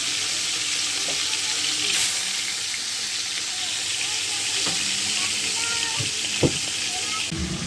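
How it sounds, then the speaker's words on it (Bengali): Two freshly cut fish frying in hot oil in a wok, a loud, continuous close sizzle throughout, with a few faint clicks and one sharp knock near the end. "মাছটা এবার ভাজবো।"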